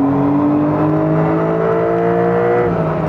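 A tuned Porsche 992 Carrera T flat-six engine revs loud and close, its steady harmonic note rising smoothly as it pulls all the way to redline without a break.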